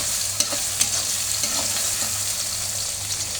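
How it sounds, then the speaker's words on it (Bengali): Bitter gourd and chopped potato fry in oil with garlic, onion and green chili, making a constant loud sizzle broken by quick scraping stirs of a spatula. "তো করলা ছোটো আলুটা এখন ভেজে নেব।"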